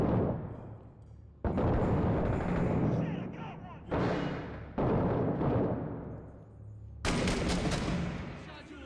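Gunfire in the video game 6 Days in Fallujah, several bursts of loud, abruptly starting shots with echoing decays, separated by brief lulls. A voice talks underneath.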